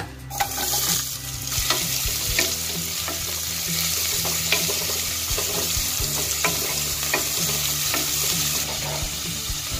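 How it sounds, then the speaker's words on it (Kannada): Onions sizzle steadily in hot oil with bay leaf, cinnamon and cardamom for a Mangalore-style mutton curry, a close, continuous fry broken by scraping stirs, with no voices. "ಆನಿಯನ್ ಎಲ್ಲ ಒಂದು ಸ್ವಲ್ಪ ಲೈಟ್ ಬ್ರೌನ್ ಕಲರ್ ಆಗಿ ಅಲ್ಲಿ ತನಕ ಇದನ್ನ ಒಂದು ಸ್ವಲ್ಪ ಚೆನ್ನಾಗಿ ಫ್ರೈ ಮಾಡ್ಕೊಳ್ಳೋಣ"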